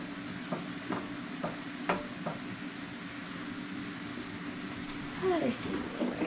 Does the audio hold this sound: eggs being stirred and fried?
yes